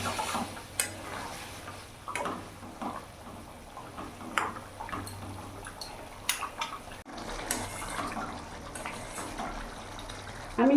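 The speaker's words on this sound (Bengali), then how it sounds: "এক এক করে আমি এবার ডিমগুলো ছেড়ে দেবো। ভালো করে ফুটাবো আমি।" Eggs dropped one by one into a simmering egg curry in a pot, with soft irregular clinks, stirring and gentle bubbling, quiet and close throughout.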